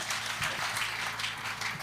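Crowd applause at an evening salvation, healing and deliverance crusade in Bafoussam, a steady dense wash of many hands clapping, moderately distant and sustained throughout.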